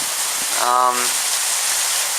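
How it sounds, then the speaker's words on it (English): Steady rain falling outdoors in a park after a night of constant downpour, an even close hiss of drops with a brief voice sound breaking through partway. "it's been raining constantly since about 9 o'clock last night"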